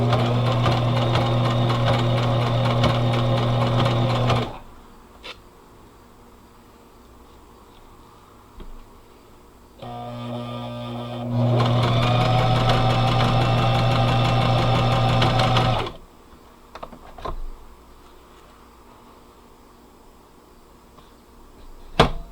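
A sewing machine stitches fabric for a scrappy bag in two fast, close bursts of rapid mechanical chatter, the first about four seconds long and the second several seconds long. Quiet pauses with small handling clicks fall between them.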